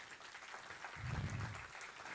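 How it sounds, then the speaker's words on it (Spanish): Audience applause at the opening session of a music conference, a short burst of clapping that swells briefly and stays fairly faint in a large room. "uma salva de palmas"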